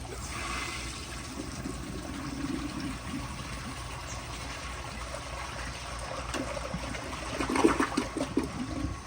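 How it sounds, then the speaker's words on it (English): A 1996 American Standard Cadet toilet, fitted with a Korky fill valve, flushes with a steady, close rush of water that runs throughout and swells into louder gurgling near the end. "and here is another flush."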